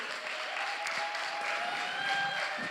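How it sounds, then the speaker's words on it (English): Conference audience applause, a dense, steady clapping from a full room that continues evenly throughout, fairly close with no one speaking over it. "I want to hear a big round of applause"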